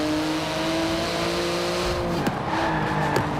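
A 3.8-litre twin-turbo flat-six sports car of 700 horsepower, in carbon fibre with wings and vents, races in Forza Horizon 4, its engine droning steadily and loud before shifting pitch, with tyre squeal and quick gear changes.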